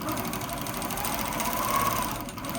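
A longarm quilting machine stitching feathers runs in a steady, close, continuous motor whir with a fast stitching rhythm throughout.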